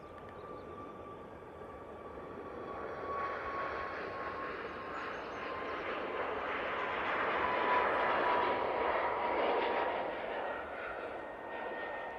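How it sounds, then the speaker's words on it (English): A Ryanair Boeing 737 MAX accelerates down the runway on take-off at Manchester Airport, its broad engine roar building gradually to a peak near the end, with a faint steady whine over it and no voices. "Got this Ryanair 737 MAX on the roll."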